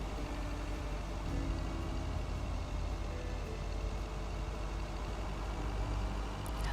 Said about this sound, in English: I love the little like calm music and the sound the truck makes.